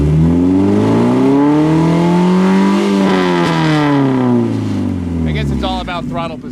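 A Mazda Miata with an aftermarket exhaust revs loudly up close, its engine note climbing and falling in one long sweep before easing off, with voices briefly at the end.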